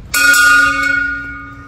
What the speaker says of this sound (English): is we ring the bell officially